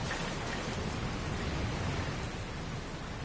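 Steady rain falls in the video game Dragon Quest Builders 2, a dense, even hiss of raindrops with no voices or other sounds breaking through.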